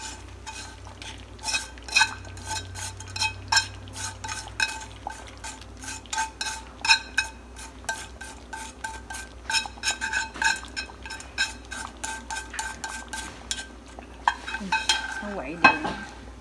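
Fried shallots and garlic are stirred into a pot of abalone and shark fin porridge, a spoon scraping and clinking against the pot in quick, close, repeated strokes over a faint sizzle, with no talking.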